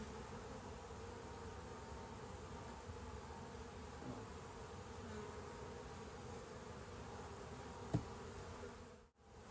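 A dense, steady drone of many honey bees buzzing close by at an open hive, with a brief sharp knock near the end.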